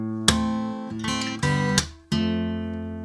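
Fingerstyle electric guitar picks a bar of a song's chorus, several plucked chords ringing out in an uneven rhythm, close and clear with no talking.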